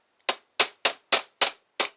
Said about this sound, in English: Took a hammer,